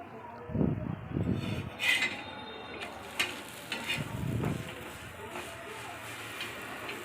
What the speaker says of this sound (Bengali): এইভাবে আমি খুন্তি দিয়ে ঠেসে ঠেসে দুই পিঠ ভেজে নেবো এপিট ওপিট করে পরোটাগুলো সব ভেজে নিচ্ছি